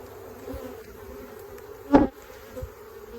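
A low, steady honey bee buzz hums throughout during a hive inspection, with a louder burst near the middle as bees pass close by and a smaller one shortly after.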